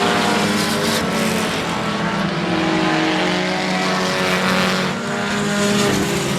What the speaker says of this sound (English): Look at the Chevy Cobalt pitching it in sideways, folks.